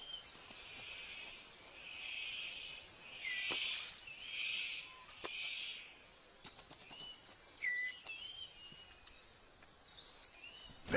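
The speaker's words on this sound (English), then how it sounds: "The superb bird of paradise calls to attract a female." Superb bird of paradise calling in forest, a series of high, buzzy bursts over steady insect drone, with scattered short chirps from other birds; moderately distant and fairly faint.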